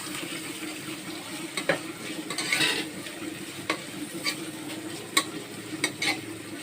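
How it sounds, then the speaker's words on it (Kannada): Onions and mint frying in a pan, with a steady sizzle underneath and scattered scraping clicks from a spatula stirring them, one fuller burst of sizzle partway through. "ಈರುಳ್ಳಿ ಆಗುವಾಗ ಫ್ರೈ ಮಾಡ್ಕೊಳ್ಳಿ ಸ್ವಲ್ಪ ಪುದೀನವನ್ನು ಹಾಕೊಳ್ಳಿ ನೋಡಿ ಚೆನ್ನಾಗಿ ಇವಾಗ ನೀವು ಬಾಡಿಸ್ಕೋಬೇಕು"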